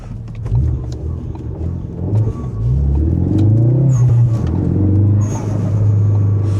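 A big-turbo Ford Focus RS accelerates hard, its engine rumble rising and surging loud and close from inside the car.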